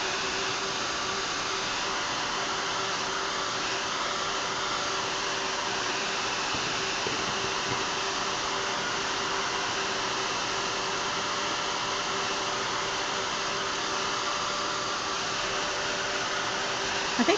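Hair dryer blowing on a mixed media canvas to dry dark brown paint, a steady whirring hiss with a faint tonal hum, running continuously and evenly with no talking.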